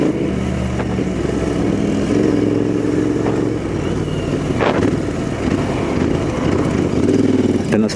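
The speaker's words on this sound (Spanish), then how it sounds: "el sonido está a otro nivel, el sonido de la moto" A Royal Enfield Interceptor 650 twin runs loud and steady close by, its engine roar rising and dipping slightly while riding in first gear.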